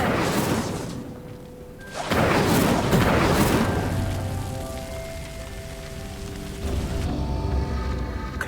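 Incendio fire spell lighting a pyre in Hogwarts Legacy, a loud whooshing burst of flame that rises into a roaring crackle and settles into a steady burn with a faint magical ring.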